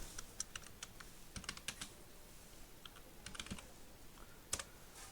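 Quiet computer keyboard typing: scattered clusters of light key taps with short pauses between them, close up and alone, with no voices.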